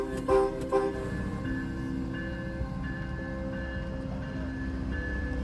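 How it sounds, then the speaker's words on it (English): Freight train working a rail yard in Rochelle, Illinois or Grand Island, Nebraska, with a steady low locomotive drone and sustained tonal hum, two brief sharp bangs near the start, then a continuous rumble throughout. "This train moved forward and backward several times as it worked the yard."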